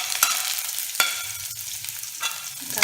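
Ginger, garlic and red chili sauteing in hot oil for toor dal fry, a close, steady crackling sizzle broken by a few sharp spoon scrapes and taps against the pan.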